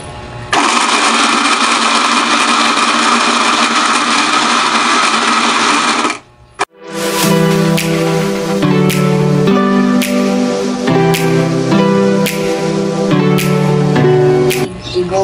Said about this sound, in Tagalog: i-blender po natin mga friendship